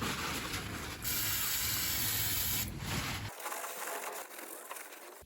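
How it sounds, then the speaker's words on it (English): Brake cleaner sprays hard and steadily onto car battery posts from close range with a loud hiss that stops after about three seconds, leaving a quieter rustle as the posts are wiped. "A little bit of brake cleaner, bit of kitchen roll or rag, whatever you've got, and we'll just clean up the posts"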